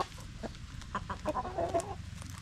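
Chickens and young chicks on a Filipino backyard farm clucking and peeping in short, overlapping bursts, fairly close, over steady low outdoor rumble.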